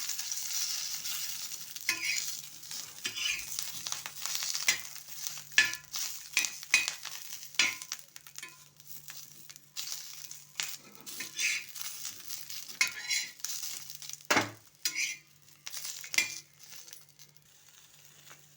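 Green chilies roast in a hot pan on a gas stove, giving a steady sizzle with frequent clicks and scrapes as they are turned, close and moderately loud throughout with no talking.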